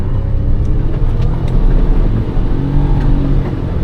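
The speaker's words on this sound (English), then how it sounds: "ate right through that rut in two-wheel drive" Engine roar from a lifted Suzuki Jimny JB23 with lockers and a snorkel, driving through a rut near a pond in two-wheel drive, with a steady loud rumble and faint knocks and rattles throughout.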